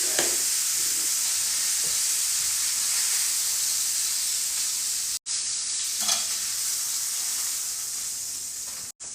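Steak sizzling on an indoor grill pan, a steady loud frying hiss that runs nearly unbroken, with two brief dropouts and faint stirring or shifting sounds underneath.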